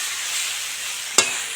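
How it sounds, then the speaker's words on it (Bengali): A filling tossed with roasted spices sizzles steadily in a pan, broken by a single sharp scrape of the spatula near the end. "এবারে দিয়ে দিচ্ছি ভাজা মশলা দিয়ে একটু ভালো করে নেড়ে চেড়ে নিচ্ছি"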